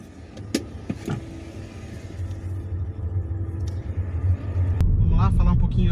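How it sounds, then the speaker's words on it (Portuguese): A Chevrolet Onix Plus car produces a low, steady cabin rumble of engine and road noise that gradually swells louder as it drives, with a few soft clicks inside the car. "vou aproveitar, colocar o cinto, sair para dar uma volta com o Onix Plus"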